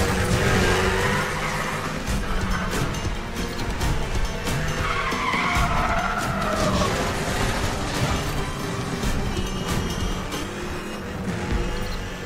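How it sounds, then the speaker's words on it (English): Cars drift with loud, continuous tire squeal and skidding in the racing video game Need for Speed The Run, with an Audi Quattro and an FD on track, engines roaring steadily throughout. "Drifting didn't help as well as I thought it would."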